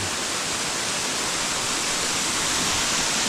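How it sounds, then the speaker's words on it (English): Steady broadband roar of Fuller Falls in Nova Scotia, heard from the base of the waterfall, loud and constant with no breaks and no voices. "Made it to the base of Fuller Falls."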